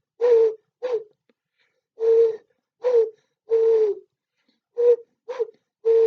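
A person imitates a pigeon or dove with a series of short, hooting coo sounds. There are about eight separate calls in an uneven rhythm, close and clear, with silence between them.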